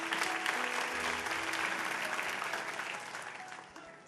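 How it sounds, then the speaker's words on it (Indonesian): A church congregation applauds during a sermon, a full, dense wash of clapping that holds steady for several seconds and then gradually thins and fades near the end. "Kasih tepuk tangan."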